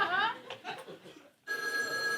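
A telephone in a backstage farce scene rings with a steady electronic bell tone that starts abruptly after a pause, following brief faint voices and laughter, then carries on alone and fairly quiet.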